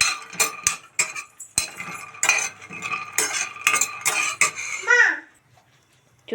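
Peanuts are dry-roasted in a pan over a medium flame and stirred with a metal spoon, making close, repeated clinks and scrapes before quiet settles; a few voices are heard.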